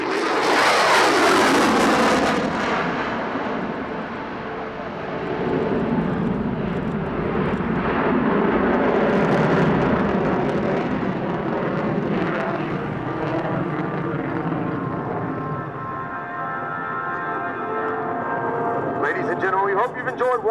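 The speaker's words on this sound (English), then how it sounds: "Your United States Air Force's F-22 Raptor!" A US Air Force F-22 Raptor jet flies past with a loud, sustained roar that swells and shifts pitch, heard up close from start to finish.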